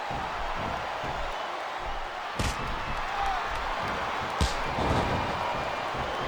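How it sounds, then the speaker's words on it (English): Arena crowd noise from the WWE SmackDown vs RAW 2007 video game during a Chris Benoit vs Kurt Angle ironman match, a steady loud wash of fans with two sharp slams cutting through. "Wow, listen to that chant, Taz."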